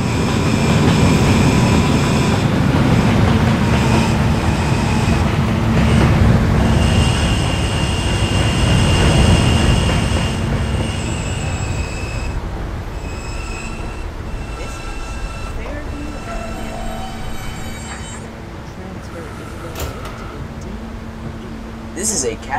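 An R160 subway train sits at or rolls through a station, its motors rumbling loudly with high wheel squeals and tonal whines that slowly fade, and station announcements over the noise.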